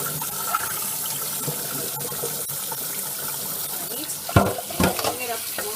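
Water poured out of a pot of boiled eggs, a steady rushing splash running throughout and ending in a couple of sharper sloshes near the close.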